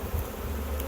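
A swarm of bees buzzing around a fence during a swarm capture, a steady close drone of many insects with no voices.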